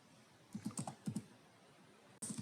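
Computer keyboard typing while entering data, quiet clusters of quick key clicks in short bursts with pauses between, close and faint.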